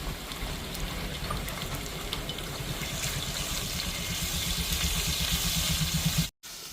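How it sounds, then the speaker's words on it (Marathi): Mustard seeds, cumin and garlic sizzle in hot tempering oil in an iron pan, a soft steady crackling hiss that builds slightly before cutting off abruptly near the end, heard alone without voices. "मोहरी टाकून घेतली आता जिरी टाकते हे लसूण टाकलं"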